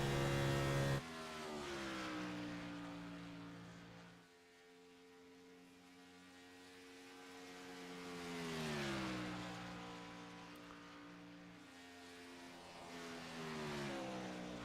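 A race car engine held at full throttle in iRacing, a loud, sustained high-pitched whine that climbs and falls in pitch as it drops through gears and pulls again, with no voices.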